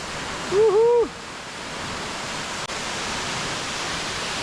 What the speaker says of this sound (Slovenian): Evo, tukaj smo pa zdaj že na vrhu slapu.